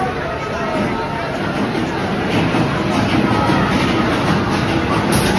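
A roller coaster train at Carowinds rumbles steadily along its track with rattling, clattering wheels, a continuous loud roar with a crowd murmuring faintly underneath.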